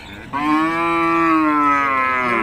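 Beef cattle on a farm let out one long, loud, close moo that starts abruptly and holds steady to the end, with no voices over it.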